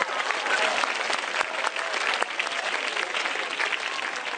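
Steady, dense applause from a stand-up comedy audience, loud and continuous throughout with no break and no talking.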